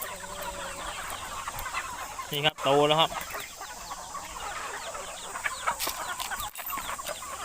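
Four-month-old chickens cluck around a home yard in the rainy season, a dense nearby chorus of clucks and chatter, with someone speaking briefly over the flock.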